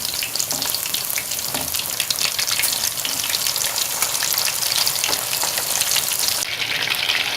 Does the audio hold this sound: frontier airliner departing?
no